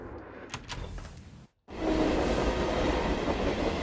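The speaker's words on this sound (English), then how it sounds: "Train tracks." Rumbling and clattering of a train on the tracks in the MAW video game fill the clip, broken by a short silent gap, then a loud, steady roar.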